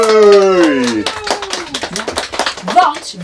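A group of young schoolchildren clapping in a classroom, scattered uneven claps breaking out after an adult voice speaks at the start, fairly close and lively.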